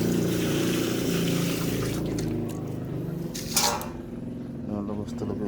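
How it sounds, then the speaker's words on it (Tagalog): Water flows steadily and continuously in a broadband rushing wash, with a few splashy bursts partway through, and someone talks over it. "tuloy-tuloy yung agos ng tubig"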